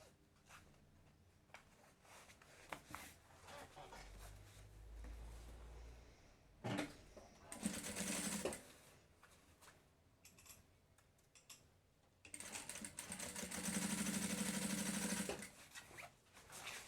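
A sewing machine topstitches the lining of a fabric lunch bag, with short whirring bursts of stitching separated by quiet pauses and handling clicks, then a longer steady run of rapid stitching near the end.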